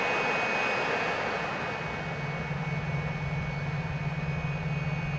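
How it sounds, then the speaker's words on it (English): The twin jet engines of a Fouga CM.170 Magister idle near 7000 RPM in Microsoft Flight Simulator, a steady close whine over a low rumble that holds evenly throughout. "we do have two good starts, both engines idling around 7000 RPM"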